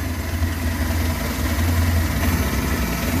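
A Suzuki Carry 1.0 engine idles steadily with a low, even rumble while its carburetor throttle is being adjusted, close up and continuous with no speech.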